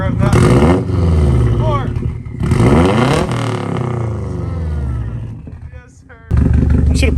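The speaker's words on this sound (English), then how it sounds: "give it a little higher rev than that" A Subaru WRX STI engine with a suspected failure revs in loud, rising and falling sweeps, blipped several times close by, with a person talking over it.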